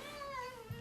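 A cat gives a single short meow close by in a quiet indoor room, a drawn-out falling tone that lasts under a second.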